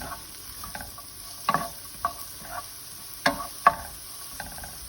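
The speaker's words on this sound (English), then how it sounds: "Then you'll stir in your onions and let them become translucent." Onions sautéing in olive oil for vegan stuffed peppers, a soft sizzle broken by several distinct scraping stirs of a utensil against the pan, close and fairly quiet.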